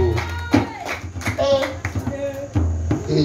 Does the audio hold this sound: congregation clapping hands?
yes